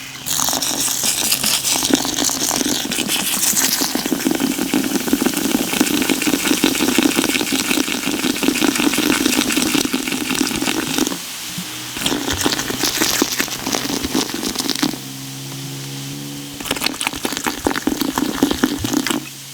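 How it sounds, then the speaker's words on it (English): Liquid pours steadily from a bottle into a container of rice being prepared as carp bait, a loud continuous gurgling splash with brief pauses and a final stretch of steady flow. "So I'm going to pour about half this bottle in there."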